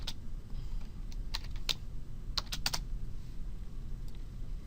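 Keys on a computer keyboard tap in short, scattered clusters of quick clicks, close and fairly faint over a low background hum.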